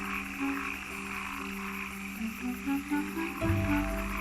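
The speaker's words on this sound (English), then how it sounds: "The cross-barred tree frog is unique to the canyon." Cross-barred tree frogs croak beside a canyon stream in a series of short, tonal calls that overlap each other over a steady background of rushing water.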